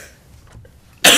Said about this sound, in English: Sorry, now I'm going to cough.